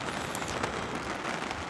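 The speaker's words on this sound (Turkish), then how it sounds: "Yağmur güzel değil mi?" Steady rain falls during a relaxed live ASMR chat stream, a dense, even patter that lasts throughout with no voices.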